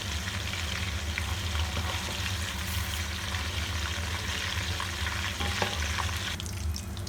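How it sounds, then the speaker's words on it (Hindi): Chicken frying in oil in a pan, a steady dense crackling sizzle with low bubbling underneath, continuous and close with no talk. "अच्छी तरह से आपने इसे फ्राई करना है। अल्हम्दुलिल्लाह चिकन हमारा फ्राई हो चुका है।"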